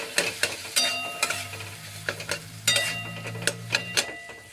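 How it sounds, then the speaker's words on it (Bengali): Potatoes frying in a pan with a low, even sizzle, punctuated by about a dozen sharp metallic clacks of a spatula stirring against the pan, close and alone. "আলু ভেজে নেব।"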